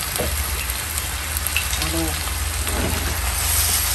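Vegetables and chicken frying in a pan, a constant loud sizzle with occasional stirring scrapes and a brief clink, close and continuous.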